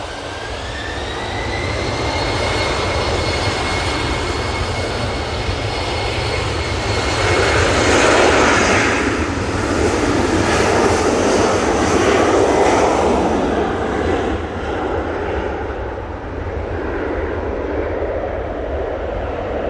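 An Embraer jet airliner touches down at Manchester Airport, its engine roar swelling to a loud peak near the middle and then easing into a steady, fading rumble with a falling whine.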